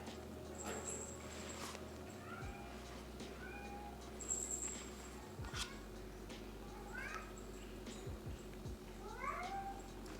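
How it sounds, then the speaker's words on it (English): A cat gives repeated short, rising hunting meows, several separate calls spread across the stretch over a steady low background hum, fairly close and moderately loud, with no talking. "That's his like hunting meow."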